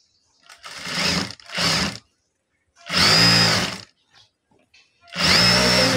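Sewing machine stitching a salwar, running in four loud bursts of rapid whirring needle action with near-silent pauses between them and faint handling clicks in the gaps.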